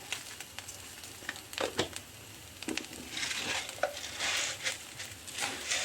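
Garlic, fennel seeds and black peppercorns sizzle and crackle in hot oil, with scattered stirring scrapes and clicks against the pan, fairly close and without voices.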